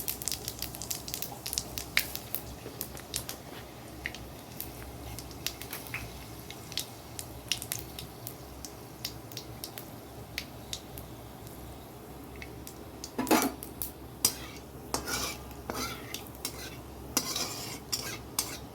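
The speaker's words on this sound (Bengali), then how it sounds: "কড়াইটার মধ্যে তেল দিয়ে দিয়েছি আর এই যে পাঁচফোড়ন দিয়ে দিচ্ছি" Panch phoron spices crackling in hot oil in a wok, a soft sizzle under repeated metallic scraping and stirring clinks, with a louder clatter of utensils toward the end, close by and without speech.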